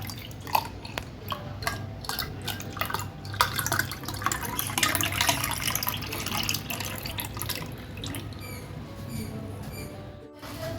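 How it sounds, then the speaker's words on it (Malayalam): Blended aloe vera juice pours into a container in a steady liquid stream with dripping and splashing, fairly close and moderately loud throughout, with no talking. "ഇതിലേക്ക് നമ്മളെടുത്ത് അടിച്ചു വെച്ചിരിക്കുന്ന അലോവേര ജ്യൂസ് ഒഴിച്ചു കൊടുക്കാം"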